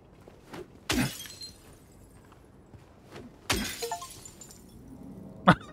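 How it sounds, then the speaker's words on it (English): Window glass shatters in the video game Silent Hill 2: two loud, sharp crashes a few seconds apart trail off into tinkling shards, then a third brief smash follows at the end, with quiet ambience between. "got an achievement for shattering 50 windows"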